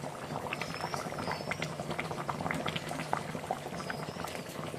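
Fish curry (kuzhambu) with mango bubbling in a pot, a dense steady simmer of popping bubbles close by, with no talk.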